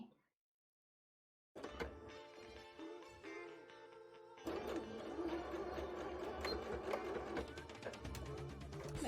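Up close, a sewing machine stitches a line along a Scooby-Doo-themed bra, its motor whirring and clattering steadily after a brief silence, with some background noise.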